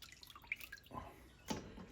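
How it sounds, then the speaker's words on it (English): Water dripping and trickling from a squeezed ball of seitan gluten dough made from flour and water, worked over a bowl in a sink, with two brief splashy bursts between soft drips. "Squeeze out as much of this water as I can."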